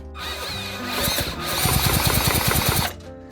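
1960s chainsaw engine being cranked, a close mechanical whir that builds into a rapid chattering burst of firing for a couple of seconds before cutting off abruptly.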